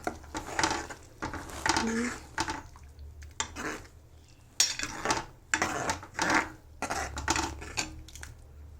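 A lid comes off a pot of mixed dal fry and a spoon stirs it. Several loud clanks and scraping strokes come in bursts with brief pauses, and muffled voices can be heard faintly underneath.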